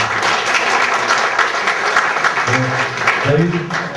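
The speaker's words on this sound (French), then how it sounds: "Je vous prie de l'applaudir." Loud, dense audience applause at a press conference for a football academy in Togo, continuous throughout, with a voice speaking over it near the end.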